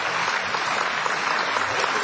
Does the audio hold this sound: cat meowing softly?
no